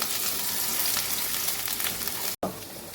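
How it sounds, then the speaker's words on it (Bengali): Potatoes fry in a pan with a loud, steady, crackling sizzle that holds evenly, then cuts out briefly near the end before resuming. "আলুগুলো ভাজা হয়ে গেছে"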